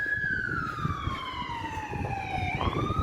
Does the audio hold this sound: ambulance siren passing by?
yes